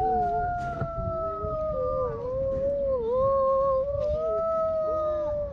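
A voice imitates a timber wolf howl: one long, sustained, wavering tone held for several seconds with slight pitch dips, fairly close, with faint background murmur underneath.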